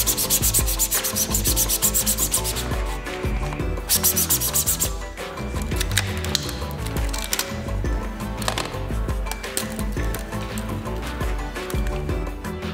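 Sandpaper scrubs across a 3D-printed part to remove leftover strings, in continuous fast back-and-forth strokes that are loud and close, with a few brief pauses between bursts.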